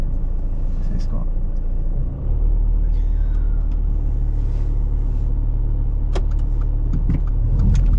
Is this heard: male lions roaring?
no